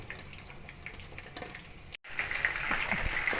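Catfish in an egg, cornmeal and wheat flour breading fries in a pan with a soft, steady sizzle and crackle, briefly interrupted and then returning slightly louder.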